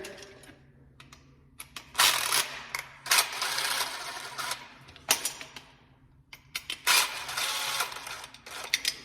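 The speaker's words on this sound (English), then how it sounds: "We're going to unscrew these set screws here." Set screws are backed out of a garbage disposal mounting assembly during a stainless steel sink install, heard as loud rattling mechanical bursts broken by short quiet pauses.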